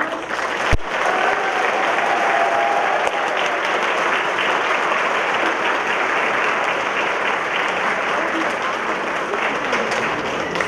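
Sustained audience applause at a school spring concert, a thick, even roar of many hands clapping that holds for the whole stretch, with a sharp knock near the start.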